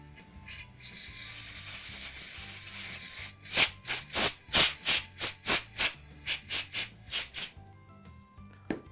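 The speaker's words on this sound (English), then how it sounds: "The simple repair on this one is using our compressed air, and we're just going to blow out all the dirt that's inside there." Compressed air blasts dirt out of a power drill that has been smoking and sparking. A low hiss comes first, then a fast string of about a dozen short, loud, close-up bursts.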